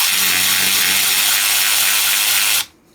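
A Ryobi USB lithium 1/4 in. cordless ratchet drives a fine-thread 3/8 bolt, a loud continuous whirring motor whine with a slight rattling pulse, stopping abruptly near the end.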